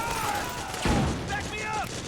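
Gunfire bursts in the stealth action game Metal Gear Solid 4 during a firefight, with a loud blast near the middle over continuous battle noise, shouted voices in the background.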